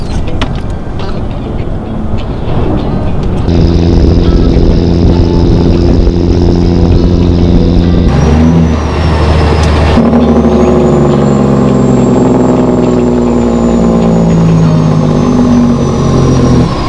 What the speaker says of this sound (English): Big truck, you're meeting at 15 wide.